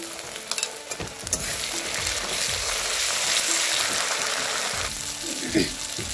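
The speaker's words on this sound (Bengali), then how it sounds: "তো দেখো মশলাটা কষানো হয়ে গেছে, তেল ছেড়ে দিয়েছে" Spice masala with onions fries in oil while being stirred for village-style chicken. A steady close hiss of sizzling runs throughout, with scraping stirs and a few clinks, and no talking.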